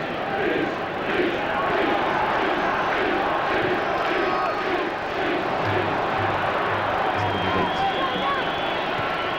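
A football stadium crowd at an England versus South Africa friendly roars continuously, a dense, loud wall of cheering and shouting that swells and holds throughout, with a commentator's voice faintly underneath.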